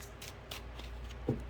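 Tarot cards are shuffled in a brief, soft riffle of papery flicks, close by and quiet, with a small tap near the end.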